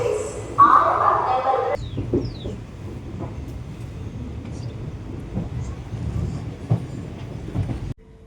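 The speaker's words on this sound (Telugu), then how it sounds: "ఇప్పుడు వెళ్తుంది ట్రైన్." A train rumbles steadily past, low clattering carrying through the whole stretch, with a brief hiss near the start and people talking over it.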